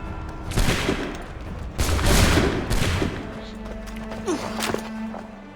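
Musket volleys crack out in Assassin's Creed III, several loud ragged bursts of gunfire overlapping in quick succession, followed by quieter footsteps and thuds.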